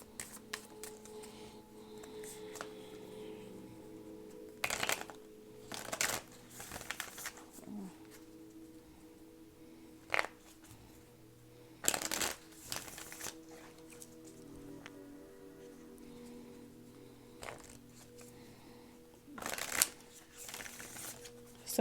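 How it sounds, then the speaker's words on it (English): A deck of affirmation cards is shuffled in several quiet bursts of soft riffling and flicking, spaced apart over a near-silent room. "let me pull an affirmation card for you"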